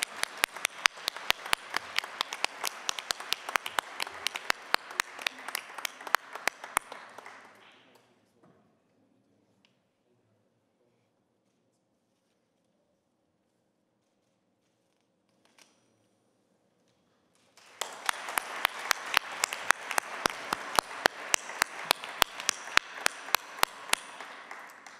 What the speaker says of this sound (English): So that was excellent applause.